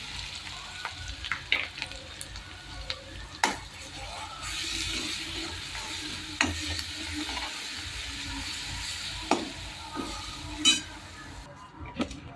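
Ground garlic and chilli hitting hot oil with cumin for a village-style chickpea-greens dish, giving a steady close sizzle with scattered crackles and a few sharp spoon clinks, no talking.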